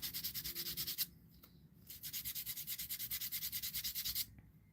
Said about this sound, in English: There's gonna sand this little nub here off.